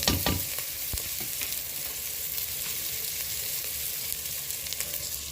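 Country chicken pieces hit a pan and fry, a broad continuous sizzle with a few stirring knocks at the start, fairly close and steady throughout.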